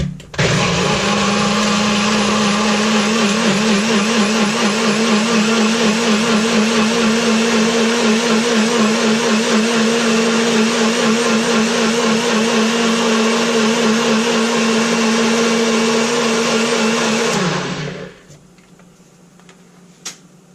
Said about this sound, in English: We're just going to run that in the blender until it is nice and smooth.